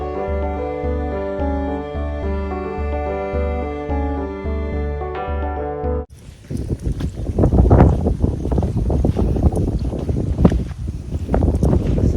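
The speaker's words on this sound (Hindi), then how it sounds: "इतनी तेज हवा चल रही है" Strong wind buffeting a microphone outdoors, loud rough rumbling gusts filling the second half after a section of steady tonal music, with no speech heard.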